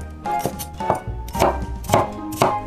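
A cleaver chops chicken for a large plate chicken dish, a run of about six heavy, evenly spaced thuds on a chopping board, loud and close with no talking.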